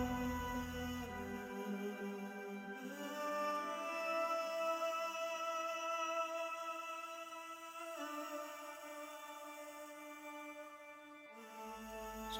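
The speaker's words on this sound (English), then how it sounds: "I just added another trumpet that complements the vocals" A trumpet line doubles the vocal phrases in the bridge of an Amapiano-style track, sustained brassy notes gliding over layered pads and keys, steady and moderately loud with no talking.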